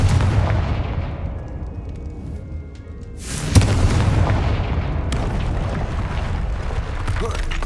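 A Confringo blasting spell explodes in Hogwarts Legacy with a loud, deep boom and a sharp crack, followed by a rumbling wash of debris and continued battle noise.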